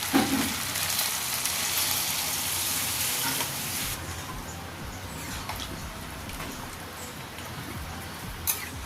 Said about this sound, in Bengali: এবারে আমি ওর মধ্যে দিয়ে দিচ্ছি জল।